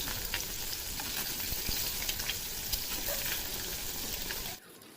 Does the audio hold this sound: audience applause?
no